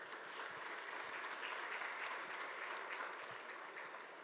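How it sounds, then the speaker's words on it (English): A conference audience applauds the speakers at a composites manufacturing event, a broad, steady wash of many hands clapping together, sustained and even throughout, heard from within a large hall. "A big round of applause, please, for these amazing speakers."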